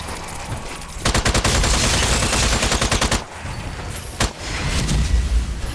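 Rapid automatic gunfire from a weapon in the Strange Brigade video game, loud dense bursts running for about two seconds, a short pause, then a single sharp shot followed by more sustained firing with booming impacts.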